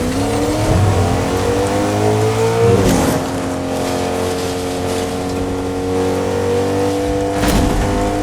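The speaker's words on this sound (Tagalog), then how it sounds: "Kita ko yung sasakyan." A car engine in Fortnite revs continuously with rising and shifting tones, loud and close, with a brief burst of louder noise midway and another near the end. No one speaks.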